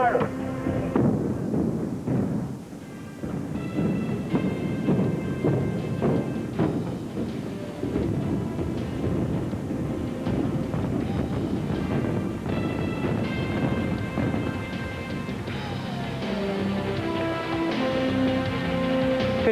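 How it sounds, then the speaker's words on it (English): Implosion of the St. Louis Arena, heard as a prolonged, loud low rumble of demolition blasts and collapsing structure rolling on for many seconds, with crowd noise and voices mixed in beneath. "the implosion of the St. Louis Arena"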